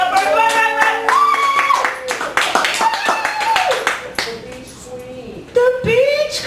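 Audience at a Chicago poetry open mic applauding the featured poet, a brisk patter of clapping and cheering mixed with loud, lively voices that carries on throughout.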